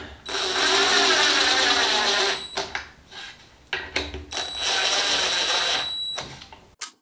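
A power drill tightens a wooden miter-cutting jig, two long whirring runs with a high whine, separated by short clicks and knocks of handling, close and loud.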